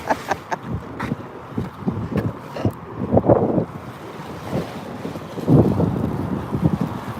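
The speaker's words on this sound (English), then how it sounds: "I'm not sure where this wind came from" Strong wind hits a microphone outdoors on a street in Broadview, producing irregular low booming gusts and bursts that come and go across the stretch, loud and close.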